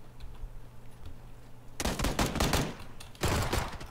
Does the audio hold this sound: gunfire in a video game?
yes